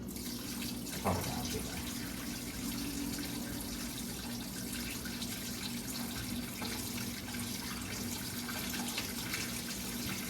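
Water pours steadily into the water pan of a Meadow Creek TS120 smoker, a pan holding almost 5 gallons; the flow is a continuous close rushing stream lasting throughout, with no talking.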